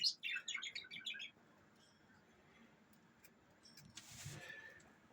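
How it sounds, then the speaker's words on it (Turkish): Canaries, including a white female crested lipochrome bird, chirp in a bird room: a short, bright burst of twittering at the start, then a quiet hiss with a faint soft thump near the end. "Burada kanaryalarımız var."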